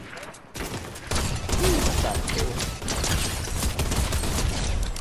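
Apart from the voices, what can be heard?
gunfire exchange in the video game Fortnite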